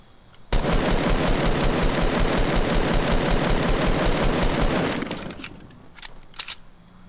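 Rapid sustained automatic gunfire in Fortnite Battle Royale, a loud evenly spaced burst lasting several seconds before cutting off, followed by a few scattered quieter clicks and thuds.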